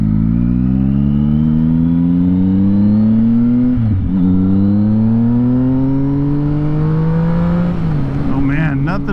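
A Can-Am three-wheeler engine accelerates through the gears on a street ride, loud and close, its pitch climbing steadily, dropping at a shift, then rising again with a sputtering crackle at the end.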